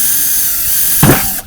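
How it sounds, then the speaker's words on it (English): A handheld power drill whirs briefly up close, a short buzzing burst as it drives into a 5-gallon Home Depot bucket, with no talking over it. "I did it. I finally did it my first time using my drill."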